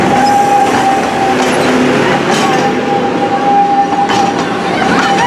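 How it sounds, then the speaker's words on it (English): An amusement park train at Valleyfair, Shakopee, Minnesota, rumbles past steadily with rolling clatter and faint wheel squeal, loud and continuous throughout. "Oh, we got the train."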